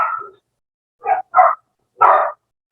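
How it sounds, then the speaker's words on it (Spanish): Several dogs bark outdoors in four short, separate bursts, loud and fairly close, with quiet gaps between them and no talking over the barks. "¿Oyen los ladridos?"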